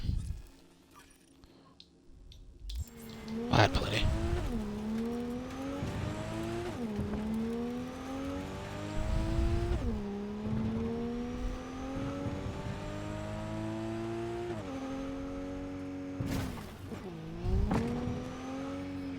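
A Coyote car in the Cyberpunk video game drives hard, its engine revving loudly and dropping in pitch with each gear shift over a steady road rumble.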